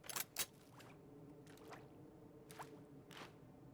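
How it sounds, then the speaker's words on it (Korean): Water splash effects from a Neptune 2.0 weapon skin on a Classic pistol in a video game: several soft, quiet splashy bursts spaced a second or so apart over a low background hum. "오, 물소리 좋고요"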